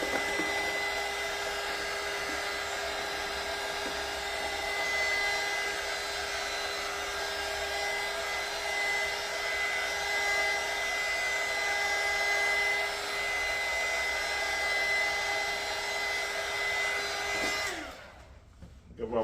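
A heat gun blows steadily as it heats a vinyl top on a Redcat Monte Carlo RC car body, a loud continuous whir with a faint whine that cuts off near the end.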